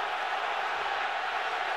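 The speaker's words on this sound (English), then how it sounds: "crowd reacting to what they saw" A football stadium crowd at a 2012 Wisconsin vs Nebraska college game gives off a steady, distant wash of roar and murmur, faint and unbroken over a brief moment.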